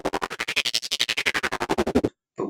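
An 808 bass pushed through a trance gate effect, chopped into rapid even pulses, about two dozen fast gated stutters, then a short gap and a new start, loud and alone.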